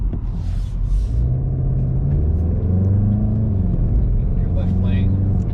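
Steady low engine rumble and tyre and road noise inside a new car on low-profile tyres as it takes a bend at about 60, loud and continuous, with someone talking over it.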